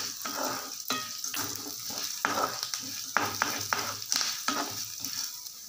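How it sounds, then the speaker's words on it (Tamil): Chana dal frying in hot oil for kola urundai, with a continuous close sizzle and crackle broken by regular stirring clinks and scrapes in the pan. "கருக விட்டுறாமல் எண்ணெயில் நல்லா வறுத்து எடுத்துக்கோங்க"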